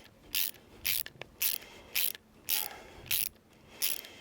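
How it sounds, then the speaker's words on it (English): A socket wrench ratchets on an outside nut that drives a threaded rod into a birdhouse, giving seven or eight short, close clicking bursts in an uneven rhythm, with no talking. "I used a socket wrench to do it."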